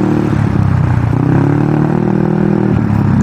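A Rusi Passion scooter's GY6 engine with 13/40 final gearing hums loudly and steadily while accelerating, with a droning, rising pitch, close by, with no talking.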